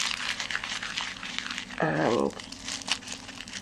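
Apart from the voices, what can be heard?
crumpling wax paper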